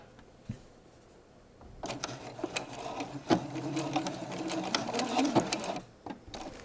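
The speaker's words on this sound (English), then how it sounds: "I'm going to sew that up." A sewing machine stitches a button loop onto a shirt, running in a steady close whirring burst after a quiet start, with light handling clicks and a brief stop near the end.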